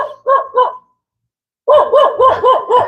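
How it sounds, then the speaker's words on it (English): A stray dog barks close by: three quick barks, a short pause, then a longer run of five or six loud, evenly spaced barks. "And see, here's one of those dogs I'm talking about."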